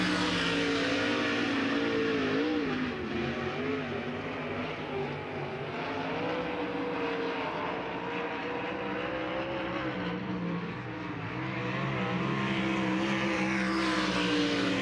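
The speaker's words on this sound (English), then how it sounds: "Mike Hagenbottom in 51. Will be our final two qualifiers here tonight for the Great Lakes Super Sprints" A sprint car at Eldora Speedway, running a qualifying lap for the Great Lakes Super Sprints. Its engine roars steadily and loudly the whole time, rising and falling in pitch as it revs through the turns.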